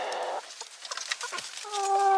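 A Rhode Island Red rooster and hens in a backyard coop give a few short clucks and chirps, then a sustained crowing-like call near the end, close and moderately loud.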